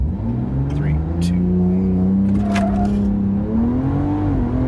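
A Dodge Charger Hellcat AWD tuned with a DiabloSport upgrade accelerates hard on a quarter-mile run, its engine note rising and holding loud and steady throughout, with a voice speaking over it.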